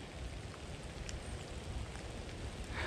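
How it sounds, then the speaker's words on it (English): Light rain falls steadily in a park, a soft even hiss of drops with no speech, faint and constant throughout. "It is starting to rain though again. I don't know if you can hear it."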